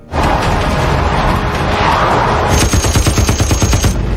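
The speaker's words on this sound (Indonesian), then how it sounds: "tiba-tiba Royce dan anak buahnya muncul dan langsung menembak ke arah mereka" Rapid gunfire in a film shootout, a roaring volley of shots that turns into a fast staccato burst of automatic fire toward the end, loud and close.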